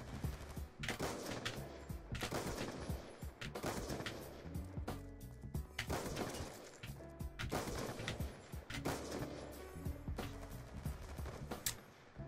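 Gunshots in a shooter video game during trickshot play, sharp rapid bursts of gunfire repeating in clusters across the stretch, loud and close with no talk over them.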